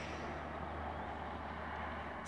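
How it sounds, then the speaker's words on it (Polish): Continuous broadband road noise hums at a steady moderate level, like traffic passing at a distance with no voices. "Samochody jeżdżą."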